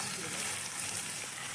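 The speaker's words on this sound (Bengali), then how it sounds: "একটু ভেজে নেব।" Garlic, ginger and chopped chilli sizzling in oil in a pan, a steady close, soft hiss of frying that holds evenly throughout with no talk over it.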